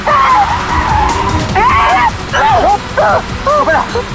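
A car being driven hard escapes with tyres squealing in repeated loud chirps and slides over a rumbling engine, the bursts coming in quick succession.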